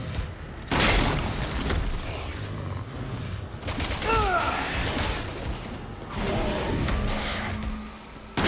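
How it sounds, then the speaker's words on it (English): A flashbang grenade goes off in Resident Evil 6 amid sharp bangs and booms, loud and close, with gunshots and game noise around it and brief voices under the action. "Flashbang, maybe that'll do something."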